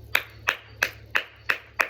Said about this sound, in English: so clapping can help